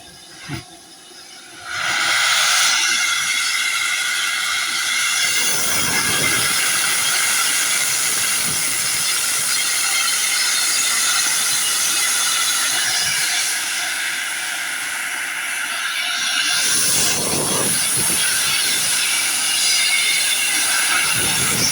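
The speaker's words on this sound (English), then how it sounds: "And we get covered in a cloud of steam." A steam locomotive on the Bluebell Railway releases a loud, continuous rush of hissing steam for many seconds, broad and roaring, with a brief thump near the start.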